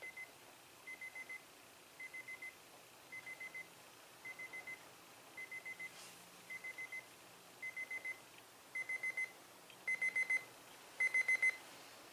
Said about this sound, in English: Now we're going to hear the beep at 4:11.